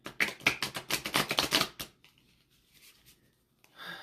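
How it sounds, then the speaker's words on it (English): A True Crime Oracle deck is shuffled by hand close up in a burst of rapid riffling card flutters for about two seconds, followed by quieter faint handling rustles. "Let me just shuffle."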